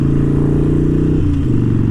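A motorcycle on a short ride from city to countryside, a loud steady engine drone close up with a brief dip in pitch midway, as if easing off the throttle, and no talk.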